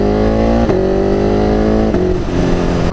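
A BMW S1000RR motorcycle idles through an aftermarket exhaust with a loud, steady engine drone, broken by two short throttle blips. The sound is close and continuous, and no voice is heard.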